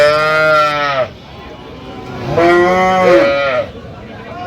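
At the Aftabganj haat cattle market, a cow with her calf gives two loud, drawn-out moos close by, separated by a short pause of faint background noise.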